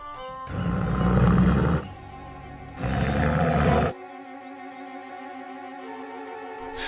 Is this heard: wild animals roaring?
yes